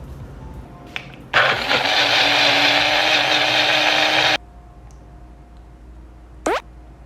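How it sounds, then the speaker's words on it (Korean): A kitchen blender grinds a diet drink mixed with aronia and camu camu powder, roaring loudly and steadily for about three seconds before cutting off, with a few small clinks around it. "믹서기에 예쁘게 갈아서 먹어주면 됩니다."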